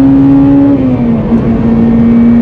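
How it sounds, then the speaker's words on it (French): A Honda Integra DC5's K20 engine pulls hard in first gear, its steady, loud drone climbing slightly in pitch as it revs, close and continuous with no talk. "on va faire le petit test d'accélération en première lancée"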